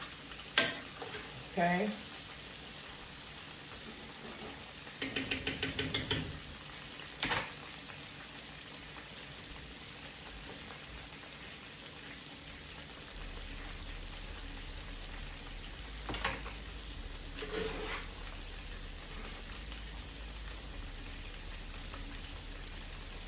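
Fish and fries frying in hot oil: a steady, crackling sizzle runs throughout, with occasional louder bursts and scraping from a spatula being moved and turned, and one brief spoken word.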